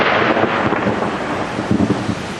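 Thunder from a lightning strike rolls as a loud, broad rumble with crackling texture, close and continuous through the short stretch, with rain noise under it.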